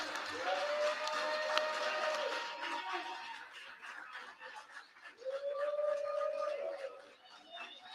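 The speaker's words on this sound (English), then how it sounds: "Listen to that crowd." A crowd at a school board meeting in Memphis cheers, whoops and claps, a dense roar that swells, dips and rises again, with a voice calling out over it.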